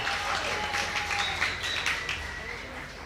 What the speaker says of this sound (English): They're still just cheering